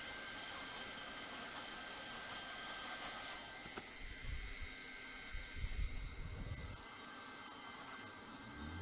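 A hand-held hot-air welder blows a steady, quiet hiss while fusing a seam at a T section, with soft low rubbing and pressing noises joining in midway.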